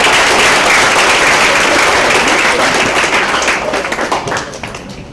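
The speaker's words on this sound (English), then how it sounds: "So a big lot of applause to our dean" Dense, loud applause from an audience at an International Yoga Day event, clapping in honour of the dean and fading slightly toward the end.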